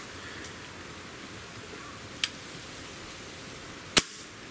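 An Umarex Octane air rifle fires once with a sharp, loud crack near the end, after a fainter click a couple of seconds earlier, over a steady quiet background.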